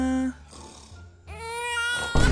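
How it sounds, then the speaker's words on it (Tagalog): A baby cries in short, strained wails with breaks between them, loud and close, ending in a sudden harsh burst. "Baby, stop crying na."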